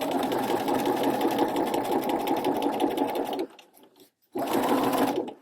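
A sewing machine fitted with a narrow hemmer foot runs fast and steadily, stitching a folded narrow hem, then stops briefly for about a second before starting up again at full speed.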